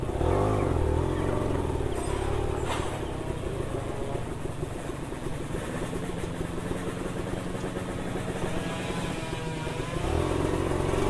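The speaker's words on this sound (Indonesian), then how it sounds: "Oh, banyak motor-motor, guys." Motorcycles at a racing circuit in Pangkep rumble and rev nearby, a continuous mid-pitched engine drone with swelling and easing throttle over several seconds.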